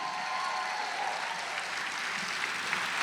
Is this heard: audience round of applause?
yes